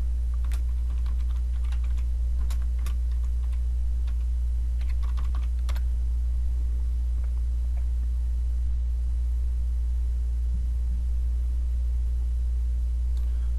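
Typing on a computer keyboard, a scattered run of light key clicks over a steady low electrical hum, with a pause and then a few more isolated taps later.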